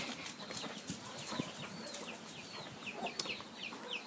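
Chickens clucking and chicks peeping close by, a busy chorus of short calls with occasional louder squawks and faint rustling.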